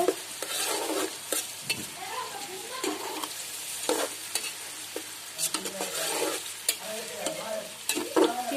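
Village chicken biryani masala is stirred in a hot pot, with repeated scraping and clattering strokes of a spoon over a steady sizzle and frying crackle, close and fairly loud.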